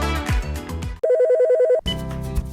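A CapTel Caption Telephone rings with a steady electronic warbling trill for under a second, sandwiched between stretches of bright music.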